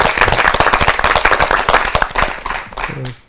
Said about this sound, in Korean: 제가 봤을 때 박수 한번 합시다.